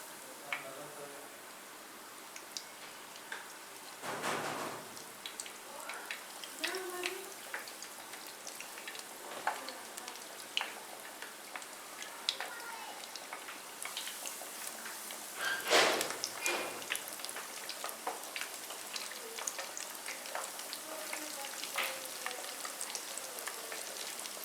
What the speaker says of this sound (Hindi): तो मैं इसमें अब अपने चिकन के पीसेस डाल रही हूँ।